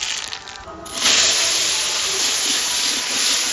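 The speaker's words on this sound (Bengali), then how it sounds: "ফোড়নে দিচ্ছি শুকনো লঙ্কা আর সর্ষে, কালো সর্ষে" Dry red chillies and black mustard seeds drop into hot oil for tempering, and a loud, close sizzle bursts in after a second and holds as a steady hiss to the end.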